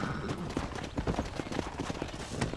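Horse hooves clip-clopping in Red Dead Redemption, a steady rapid run of hoofbeats over a constant background bed, close and moderately loud.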